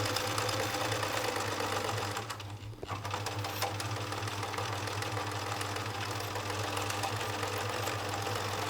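A sewing machine stitches a patchwork cushion with a steady, fast mechanical whir and needle chatter close by, pausing briefly near the middle before running on.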